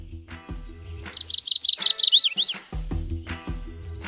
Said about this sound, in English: joy, and questions about what types of varieties of birds you're listening to